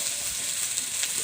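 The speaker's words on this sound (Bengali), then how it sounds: "এই দেখো ধুয়ে রাখা সয়াবিনগুলো ভেজে নেব" Washed soybean chunks frying in a little oil, a brief even hiss of sizzling with no other sounds.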